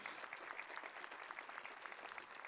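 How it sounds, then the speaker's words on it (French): Faint, distant applause from the audience at the opening ceremony of the Saint-Jean-de-Luz International Film Festival, a steady, even patter of clapping with no voices on top. "Allez-y, vous pouvez les applaudir"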